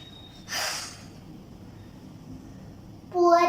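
A voice imitates snoring, with a breathy snort near the start, a quiet pause, then another rougher, louder snore at the end, alone with no other talk.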